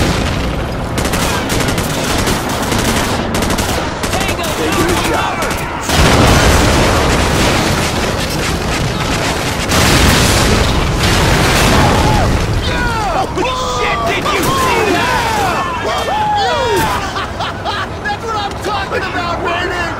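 Secondary explosions in the video game Call of Duty: Modern Warfare boom and crackle in a dense, loud barrage, mixed with bursts of gunfire and shouting voices throughout.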